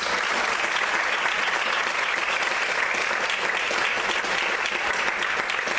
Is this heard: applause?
yes